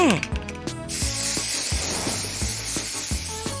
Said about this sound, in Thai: ทีนี้ก็มาลงสีทั้งหมดให้เป็นสีม่วงกัน